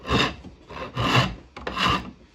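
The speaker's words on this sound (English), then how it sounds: "just get that wood out of there. Just gouge it out." A tool gouges wood out while shaping a handle by hand, giving four rhythmic scraping, rasping strokes, close and fairly loud.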